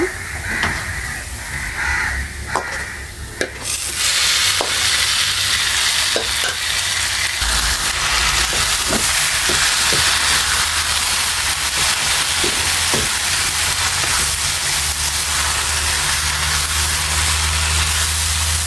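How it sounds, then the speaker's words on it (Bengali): Taro greens tossed into a pan of browned onion and garlic for an Ilish fish head and tail taro dish, a loud steady frying sizzle with scraping stirs throughout. "আমার পেঁয়াজ আর রসুন বাদামি হয়ে গেছে আমি এখন কচু শাকগুলো দিয়ে দিব"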